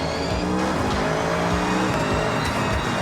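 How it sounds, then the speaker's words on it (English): A Honda Beat in Forza Horizon on auto drive, engine note loud and continuous with tire noise and skidding as the car rips around, no voices over it. "you can turn on a cinematic camera and just watch your car rip around"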